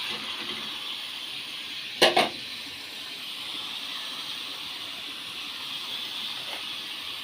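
Spice masala sautéing in a pan for a pabda fish curry gives a steady, soft sizzling hiss. A brief double clatter of a utensil comes early on, then the frying carries on alone.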